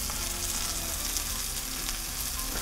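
An ocean perch fillet fries in a pan, a bright, steady sizzle with crackling pops running continuously at moderate volume, no voices over it.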